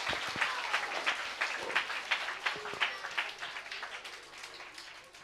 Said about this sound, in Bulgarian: нека да пляскаме на Господа за този ден